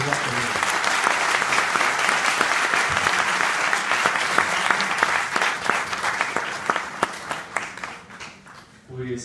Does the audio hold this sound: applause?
yes